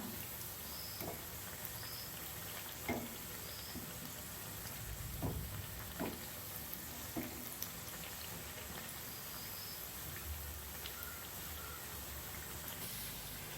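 Plantain flower vada frying in hot oil: a steady, faint crackle and sizzle running the whole time, with a few soft pops and light clinks scattered through, no voices.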